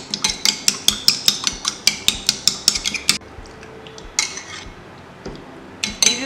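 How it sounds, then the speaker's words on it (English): A spoon clinks and scrapes steadily against a bowl while a homemade hair growth serum of oils, including almond oil, is mixed, then the strokes slow and give way to a few scattered taps. "We'll mix this all together till well combined."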